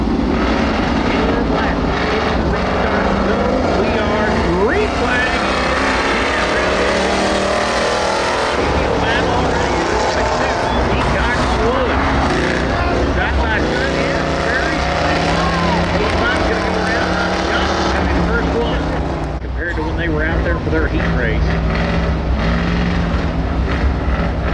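Junior Crown Victoria race cars roar off together at the start of a heat race at Cochran Motor Speedway, a loud, dense, continuous engine drone with a rising and falling pitch as the pack accelerates and passes close by.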